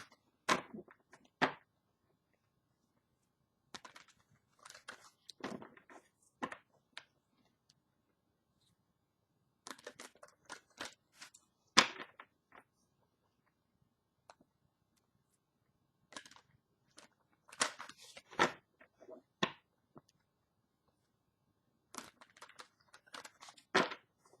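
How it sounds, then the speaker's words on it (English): Cards shuffled during a spiritual reading: soft bursts of riffling and flicking come in clusters separated by near-silence, close and quiet, with no talking. "Excuse me for the silence while I shuffle."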